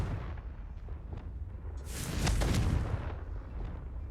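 A Confringo fire spell blasts in Hogwarts Legacy, a broad fiery whoosh that swells around the middle and fades over a rumbling low background, with no talking.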